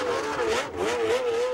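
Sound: Formula 1 racing car engine setting out for practice, 1980

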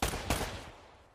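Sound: gunshots in a video game

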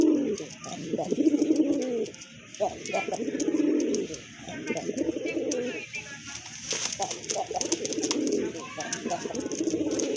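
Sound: Madrasi Golla pigeons cooing

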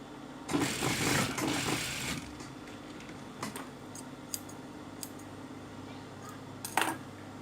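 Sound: sewing machine stitching a jumpsuit

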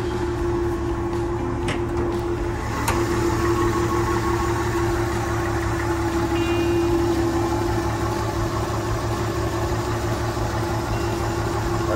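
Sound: 1968 Ford F100 truck engine running

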